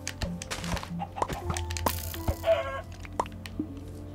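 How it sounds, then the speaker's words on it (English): Chickens clucking in the video game Minecraft, a few short clucks and squawks close by amid game sound effects and a steady low hum, with no talk. "Chicken. Chicken."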